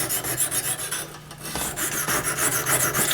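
A knife blade is drawn across the hone of a Lansky sharpening system in repeated rasping strokes, a rhythmic scraping that pauses briefly midway and then resumes close up.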